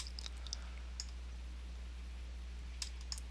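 Light, scattered clicks of a computer keyboard, a few isolated keystrokes rather than fast typing, close by over a steady low electrical hum.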